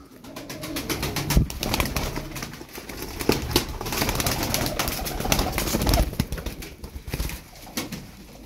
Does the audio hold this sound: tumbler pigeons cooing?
yes